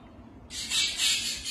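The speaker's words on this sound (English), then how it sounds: "even the birds has something to say" A shrill bird squawk breaks in after a quiet start, holding for about a second in two harsh swells, fairly close and loud over faint background noise.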